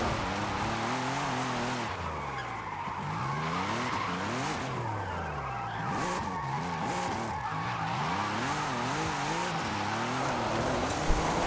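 An Audi RS5 drifts in Forza Horizon, its tires skidding and squealing in long wavering sweeps over a steady engine roar, loud and close throughout.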